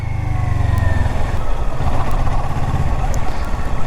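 A 2017 Kawasaki Versys 650 motorcycle engine pulls under way with a steady, throaty low rumble and a rising whine, close and loud, with wind noise over it.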